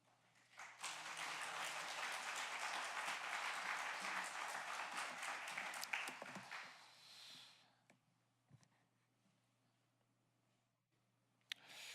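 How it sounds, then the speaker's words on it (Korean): A church congregation claps loudly in steady applause to welcome a pastor to the front, the clapping dense for about seven seconds before fading out into quiet, with a few scattered sounds afterward. "나오실 때 큰 박수로 환영하겠습니다"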